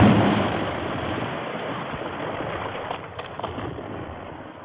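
Avalanche of snow and huge rocks for a radio drama: a heavy, muffled rumbling roar that opens loud, then tumbles on with scattered thuds and slowly fades.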